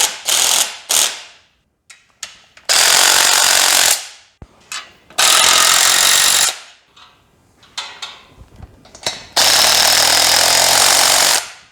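Bolts are tightened on a Pittsburgh 2-ton underhoist safety stand with a power impact tool, loud close bursts of rapid rattling hammering that come in several long runs and short blips, separated by quiet gaps.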